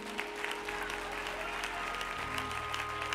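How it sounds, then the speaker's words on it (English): A church congregation claps along in worship, a dense, steady wash of many hands filling the room at moderate volume, with sustained music tones underneath. "Clap your hands and praise God."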